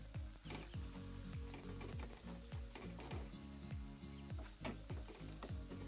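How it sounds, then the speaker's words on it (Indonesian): Eggs seasoned with a little pepper stir-fry in a pan, a dense, continuous sizzle with rhythmic stirring scrapes repeating steadily throughout, close and even. "ini kita tumis sampai telurnya matang ya"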